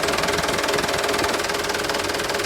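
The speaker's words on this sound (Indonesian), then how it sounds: "kita dengarkan suara mesin dulu" The engine of a used truck runs steadily at idle with an even, buzzing drone and a faint rhythmic knock. The sound is close and holds at a constant level throughout, with no voices.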